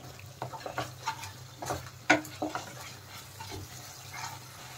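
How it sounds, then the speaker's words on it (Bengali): Spice masala for aloo dum is stirred and fried in a pan, with soft scraping strokes and a low sizzle, quiet and close, with no talk. "নেড়ে ভালো করে কষিয়ে নেব মশলা।"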